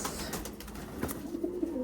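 Small pigeons at a Chittagong pigeon market cooing softly amid steady background bustle, with brief faint calls and no clear talk.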